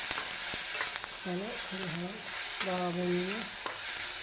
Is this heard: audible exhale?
no